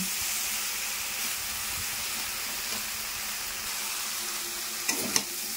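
Masala spice paste fries in a pan with a steady, close hiss and sizzle, as it starts to catch on the bottom, with a couple of brief stirring knocks near the end.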